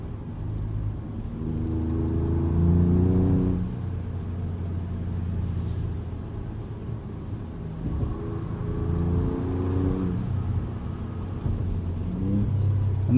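A Ford Ranger Raptor's engine revs as it drives, with a low rumble that rises and falls in several climbing pulls. Someone talks over it for much of the time.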